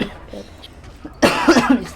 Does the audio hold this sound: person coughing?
yes